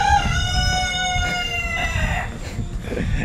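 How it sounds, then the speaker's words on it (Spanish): A rooster crows loudly and close, a long harmonic call over steady low background rumble, at the end of a run along the Ecopista do Minho in Portugal. "Nos despedimos con el gallo."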